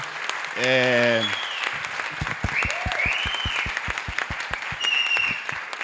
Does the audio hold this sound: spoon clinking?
no